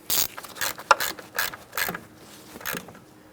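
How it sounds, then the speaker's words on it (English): Mechanical ratcheting clicks in short bursts, close and fairly quiet, from a hose clamp being tightened on the PCV hose at the intake plenum of a 2008-2016 Chrysler Town & Country. "Let's tighten that clamp."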